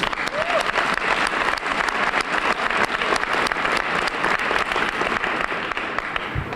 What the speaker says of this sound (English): Please join me in a round of applause for all of our sponsors.